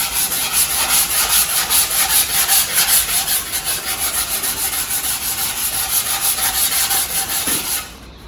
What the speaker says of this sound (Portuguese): vocês podem pegar uma lixa de madeira, número 80 para esse tipo de matriz